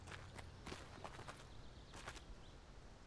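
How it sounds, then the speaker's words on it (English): Footsteps in a video game while exploring a big house, a quiet run of soft, evenly spaced steps heard alone. "I heard footsteps that weren't my own."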